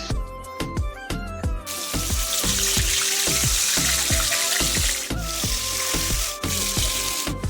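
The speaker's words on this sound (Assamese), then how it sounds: "আৰু এটা কেৰাহীত তেল গৰম হোৱাৰ পিছত মই ইয়াতে মাংসকেইটা দি দিছোঁ।" Chicken pieces fry in hot oil in a wok in a village kitchen, a loud continuous sizzle broken by rhythmic clinking strikes of a utensil, close and without talk.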